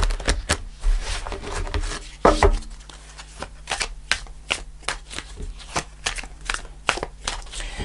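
Tarot cards shuffled by hand at close range, with a run of soft riffles and sharp slaps and taps in an irregular rhythm, some louder flurries among quieter ones.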